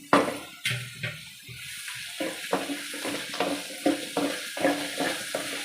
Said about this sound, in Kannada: ಮಾವಿನಕಾಯಿ ತುರಿ ಹಾಕೊಂಬಿಟ್ಟು ಚೆನ್ನಾಗಿ ಫ್ರೈ ಮಾಡ್ಕೊಬೇಕು